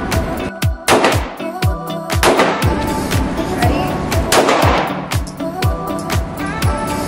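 Glock 17 and Glock 43X pistols fire at a shooting range: many sharp, loud, close shots come at an irregular pace, some in quick pairs, each with a brief ringing echo.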